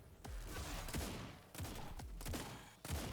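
Bouncing bullets firing in the fast-paced bullet-dodger video game Autogun Heroes, heard as a dense, steady stream of rapid electronic shots with several heavier booming hits, loud and continuous with no talking.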